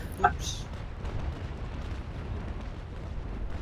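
A ship blows up in the naval battle game Naval Action, a short sharp burst followed by a rumbling low roar that lingers beneath faint background noise.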